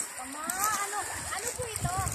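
Fresh mountain stream water splashing and trickling over rocks, close and steady throughout, with people talking over it.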